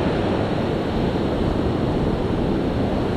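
Ocean waves on a San Diego beach during a morning surf-fishing session, a dense, constant roar of surf heard up close and loud, steady throughout without speech.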